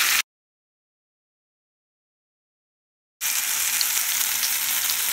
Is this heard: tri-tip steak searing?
yes